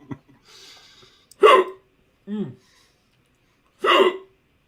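Three sharp hiccups at close range, spaced about a second apart, with a faint murmur of voices between them.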